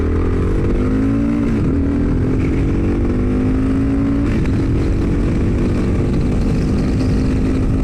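A 2022 Kawasaki KLR650 dual-sport motorcycle engine with a slip-on exhaust accelerates steadily up close, its pitch climbing and briefly dropping at two gear shifts, into fifth gear, before pulling on again.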